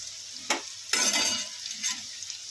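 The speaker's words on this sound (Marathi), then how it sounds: "तेल चांगलं गरम झाल्यानंतर त्याच्यामध्ये कांदे टाकूया, कापलेले कांदे।" Sliced onions dropped into hot oil for dry Bombay duck masala, sizzling with two sharp bursts as they hit the pan and then a softer crackle with light stirring, close up and alone.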